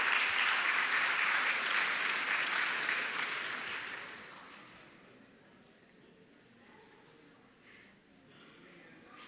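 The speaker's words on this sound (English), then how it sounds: "Round of applause." Applause from a staff assembly audience rises loud and dense for about four seconds, then fades into scattered claps and quiet room tone.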